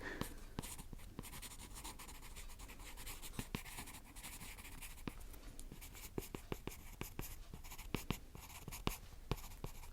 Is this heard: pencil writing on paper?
yes